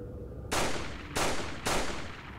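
Three gunshots fired at a medallion in the video game Resident Evil 4, sharp loud cracks spaced roughly half a second apart over a low background.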